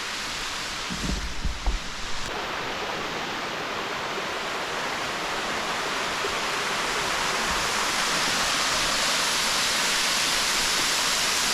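A waterfall beside a mountain trail roars as a steady, dense rush of broadband noise, close and loud, with a few brief knocks near the start.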